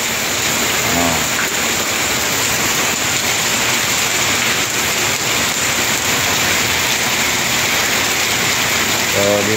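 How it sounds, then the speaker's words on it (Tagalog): Heavy typhoon rain pours steadily in a dense, unbroken hiss, loud and close, with no talking, during Tropical Storm Enteng flooding in Naga City, Philippines. "Hirap magtiwala, malakas pang ulan."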